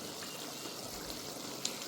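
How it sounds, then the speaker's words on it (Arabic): Boiling water poured into a pan of shrimp stew for a mabkabka pasta dish, a steady soft pouring trickle running throughout at low level, close by and alone. "هننزل بقى كده بميه مغليه"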